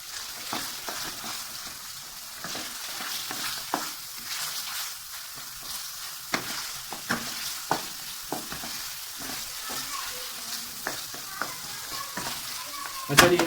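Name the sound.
chicken frying in a pan for aloo shorba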